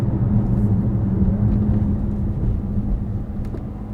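A 2018 Dodge Challenger R/T Shaker engine roars steadily while accelerating, with a deep, continuous exhaust rumble, loud and close, holding a strong low drone throughout.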